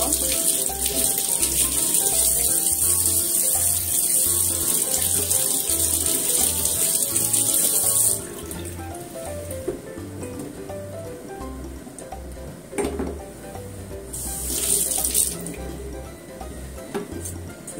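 Tomatoes being washed under a running kitchen tap, a steady broadband splash of water into a sink that shifts and thins midway as the hands move the fruit, with brief louder bursts near the end; no talking.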